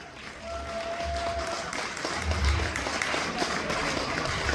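Audience applause at a live meet-and-greet event in Calgary, Canada, a steady wash of clapping from a sizable crowd that holds fairly even throughout, with a faint tonal hum running underneath.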